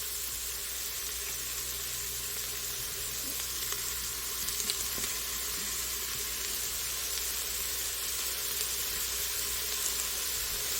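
Onion pieces sizzling in a hot, smoky pot at the start of a cabbage and potato soup, a continuous soft hiss with occasional stirring clicks, fairly faint and without talk.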